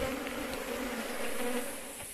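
A large swarm of Apis honey bees being rescued from an abandoned sugar mill drones in a dense, continuous buzz, steady and close with no voices.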